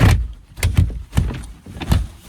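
A Tesla car door on a frozen car is pulled firmly shut from the inside several times until the lock catches, giving a series of dull, close thuds and knocks with short pauses between them.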